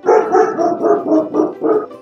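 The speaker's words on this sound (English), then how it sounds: "excuse the dog, he hears my voice and so he thinks it's someone outside." A dog barks rapidly and loudly nearby, a run of about eight quick, urgent barks with no pause.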